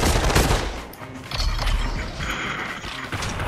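Rapid machine gun fire rattles in the video game Population: One, a quick burst of shots mixed with mechanical clanks in a short, loud sequence.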